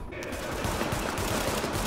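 Rapid bursts of gunfire in the video game The Division crackle in quick succession, sharp and close, forming a continuous rattling volley.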